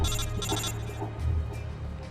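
Codec call ring from Metal Gear Solid: Portable Ops, a steady electronic ringtone with repeating pulses over a low hum, moderately loud and continuous through the moment with no talking.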